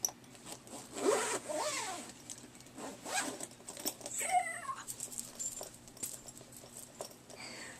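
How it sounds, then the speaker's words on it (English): A zipper is drawn in several short, scratchy pulls as a bag holding a laptop is closed. A cat meows nearby between and over the zipping. "Let's see if it zips and doesn't bulge out too much."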